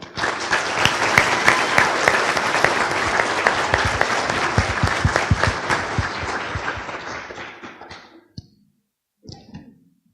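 Audience at an awards dinner for a regional crime-prevention group applauding loudly and steadily, the clapping tapering off near the end before a brief final burst.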